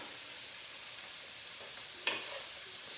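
Minced garlic, onions and pepper sizzle faintly in a pan, a soft steady hiss that stays quiet throughout, with one brief sharp clatter near the end.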